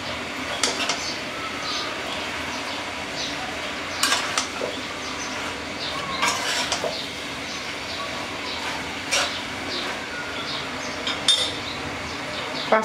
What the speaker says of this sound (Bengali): এবার ভালো করে একটু নেড়ে দেব